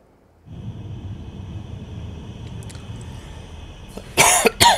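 Two loud coughs close to the microphone, coming abruptly near the end over a low steady room rumble, during a French-language playthrough of the puzzle game Rusty Lake Underground Blossom.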